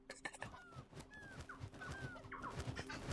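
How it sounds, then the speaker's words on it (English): Birds squawk in Earth Must Die with short, nasal calls and clucking in a quick irregular series, heard under a busy background of game noise. "Hey, you stupid birds!"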